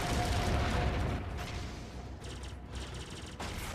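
Shooting in a VR ship video game: a loud burst of rapid gunfire and booming blasts at first, then quieter, sparser shots and short bursts that continue without talk.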